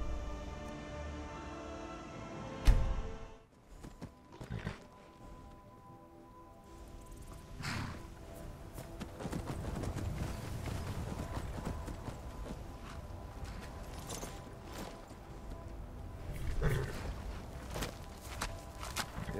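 Wild horse hooves clip-clopping in Skyrim, a steady walking rhythm of hoofbeats on the ground under game music and ambient sound, moderately close, with a sharp thud near the start.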